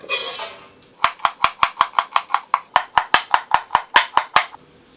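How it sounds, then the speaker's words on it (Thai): Yard-long beans are sliced thinly with a knife on a cutting board, giving a quick, even run of about seventeen crisp chops after a brief rustle, close and clear with no talking. "ถั่วฝักยาวจะหั่นซอยให้แบบเป็นแผ่นฝอยๆนะครับ"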